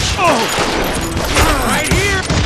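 Gunfire from the Western video game Call of Juarez Gunslinger: dense, overlapping shots crackle in a loud, chaotic volley with no break.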